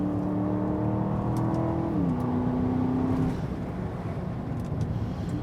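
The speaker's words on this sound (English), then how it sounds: "The 4-liter V8 engine is masterful." An Aston Martin DBX crossover's 4-liter V8 drones loudly up close, its pitch climbing then shifting as it accelerates, settling into a rough, steady roar.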